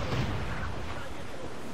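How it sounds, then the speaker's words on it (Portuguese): Cannon fire aimed at a sailing ship during a naval battle in Assassin's Creed IV Black Flag, a dense continuous barrage of booms and rumbling impacts filling the whole moment, loud and close, with shouting crew voices mixed in. "Estão disparando contra nós!"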